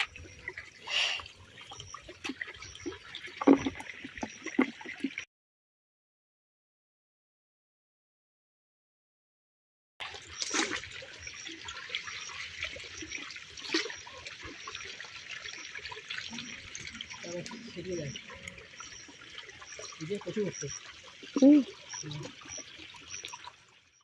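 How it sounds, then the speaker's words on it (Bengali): Floodwater flows around a flooded house and yard after heavy rain, a steady rushing trickle heard close by with scattered splashes, cutting out for a few seconds partway through. "পুরো এদিকটা ডুবে গেছে এই জল এসছে"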